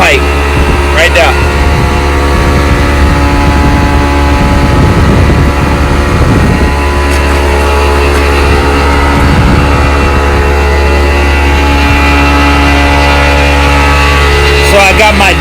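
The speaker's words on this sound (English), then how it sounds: "I picked up slag, so I'm blowing it into the slag pipe right there" A bulk tanker truck blows slag through its discharge line into a silo's slag pipe, a loud, constant engine-and-blower roar with steady tonal whine close up, with brief clanks and rumbling surges throughout.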